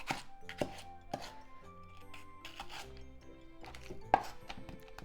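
A knife slicing pork for spicy mapo tofu stir fry, several crisp cuts against a board in an uneven rhythm, one sharper stroke near the end, over a soft tonal background.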